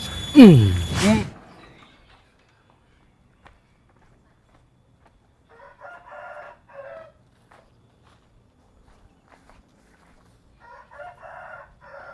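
A village rooster crows once, a loud, close, rising-and-falling call, followed by long quiet stretches broken by faint, brief bursts of distant chatter or clucking.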